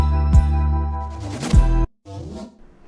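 Synth patch with LFO modulation, a hard clipper and small full-wet reverb. It plays loud buzzing sustained tones with pitch swoops, then a sudden cut and a short quieter tail.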